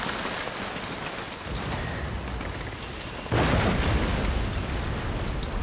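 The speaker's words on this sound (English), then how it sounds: "Oh, there's an explosion right there." A ship blows up during a naval battle in Napoleon Total War, a sudden loud boom that jumps over a dense roar of cannon fire and battle noise, staying heavy afterward.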